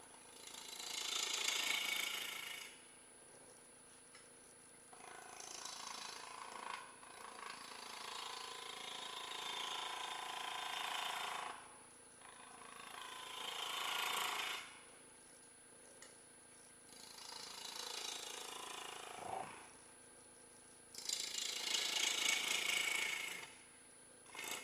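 Bowl gouge cutting into a wooden cabriole leg turning on a lathe, a rough hissing scrape in repeated passes of several seconds each, rising and falling against a steady machine hum.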